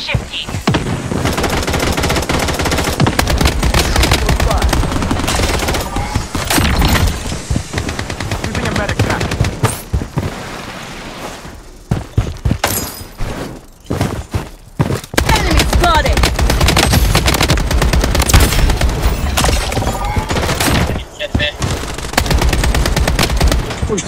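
Dense automatic gunfire in the video game Payday, long loud bursts of rapid shots overlapping in fusillades, with a short lull midway before heavy firing resumes, voices faintly heard beneath.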